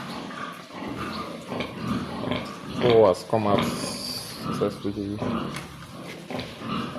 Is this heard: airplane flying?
no